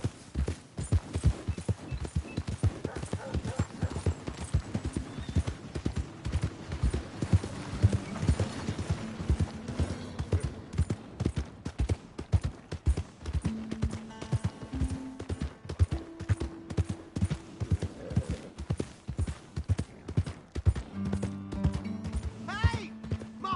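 Horse hooves clip-clop steadily in an old west video game, with a horse whinnying and game music underneath. The hoofbeats continue throughout, close and moderately loud.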